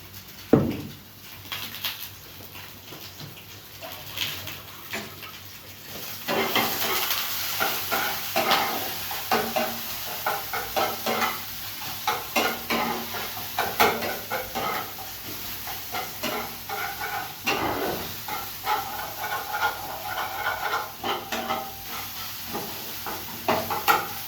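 Thick taro paste is stirred in a pan with salt added, giving a steady scraping, sizzling texture that grows louder after the first few seconds and runs on without any voices.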